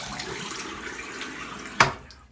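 Running tap water hisses steadily into a sink as a razor is rinsed under it, with a brief louder splash or knock near the end before the flow fades.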